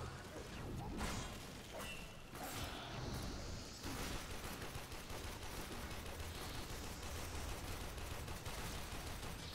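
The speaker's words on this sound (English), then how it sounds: "That guy just exploded from my freaking rifle rounds?" Dense, continuous rifle-round gunfire and chaotic combat noise in the Warframe game, with fast repeated shots blending into a loud, busy wash of sound.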